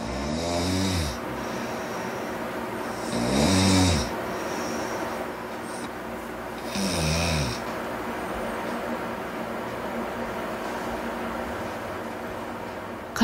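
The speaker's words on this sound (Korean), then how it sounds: "바로 코를 심하게 고는 건데요." Heavy snoring from an overweight man asleep, three loud rasping snores spaced a few seconds apart, then a long quiet stretch of held breath.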